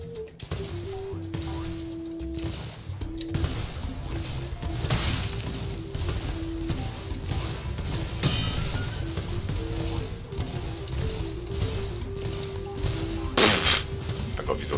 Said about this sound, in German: Jetzt haben wir noch eine Kanone.